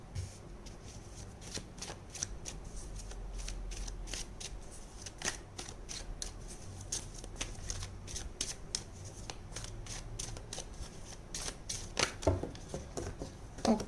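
Tarot cards are shuffled by hand nearby, a rapid, repeated riffling and flicking with short pauses between bursts, while a voice speaks softly at times.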